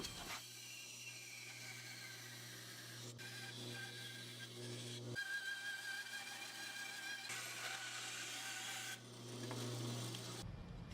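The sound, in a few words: carefully cutting out a piece of wood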